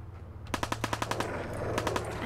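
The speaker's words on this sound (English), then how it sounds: "There's a guy shooting from that third level." Rapid automatic gunfire from a shooter on an upper level in Fallout 4, a quick string of about ten evenly spaced shots followed by a short second burst over a steady low background hum.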